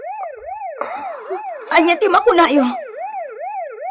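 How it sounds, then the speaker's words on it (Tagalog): Police car siren wailing in a smooth rising and falling cycle, steady and fairly loud, with excited voices talking over it in the middle. "Serena ti mobile ti pulis dayjay."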